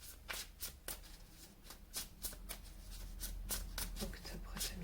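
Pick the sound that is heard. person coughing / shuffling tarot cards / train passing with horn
shuffling tarot cards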